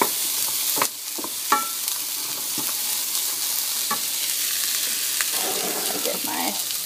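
Food is stirred around a sizzling frying pan, with scraping clicks and knocks over a constant hiss of frying.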